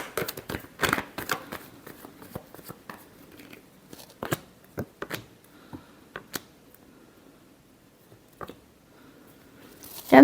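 Tarot cards being shuffled by hand, a run of soft papery riffles and taps in irregular bursts with brief pauses, close and fairly quiet, without talk.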